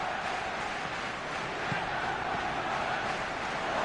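A stadium crowd in a football video game gives steady, distant applause and murmuring, a dense low wash with no clear individual claps.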